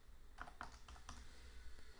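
A username typed on a computer keyboard at a login screen, a handful of soft, close keystrokes in an irregular sequence over a quiet background hum.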